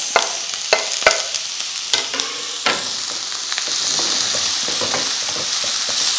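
Carrots, capsicum, tomato and onion fry in a pan, with a few sharp spatula scrapes and knocks at first, then a steady, close sizzle that carries on alone.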